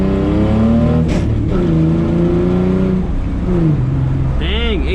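A repaired car with a tight rear end accelerates hard, its engine note climbing through gears with steady loud drone and shifts, while a voice speaks over it.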